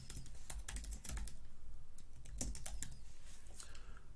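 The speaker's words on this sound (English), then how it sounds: "and then typing in your note" Quick bursts of keyboard typing, clicking keys in uneven clusters with short pauses, close and fairly quiet.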